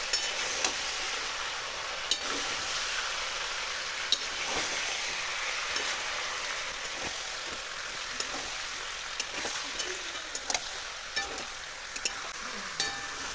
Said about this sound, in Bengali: তো এটা কষিয়ে নিয়ে আসছি, বেশ কিছুক্ষণ ধরে কষাতে হবে, 10-15 মিনিট।